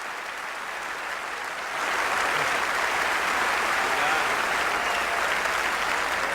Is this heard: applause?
yes